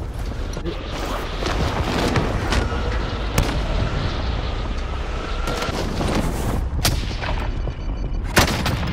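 Gunfire in a sniping video game, with dense bursts of shots and booms running throughout, several sharp loud cracks standing out above a constant rumble of battle.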